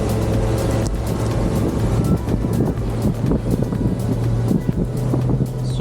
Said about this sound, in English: The wind is picked up as predicted